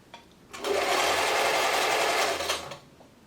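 A German-made Singer 720 sewing machine runs a straight stitch in one loud, steady burst of about two seconds, starting and stopping abruptly with quiet on either side.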